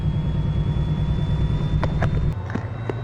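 A locomotive diesel engine running in Microsoft Train Simulator, a steady mid-pitched idling rumble with a faint whine, stepping down near the end amid a few sharp clicks.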